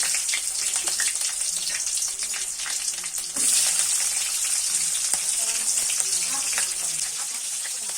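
Panch phoron spices and green chilies crackle in hot oil in a kadai, a loud, continuous close sizzle with crisp popping throughout.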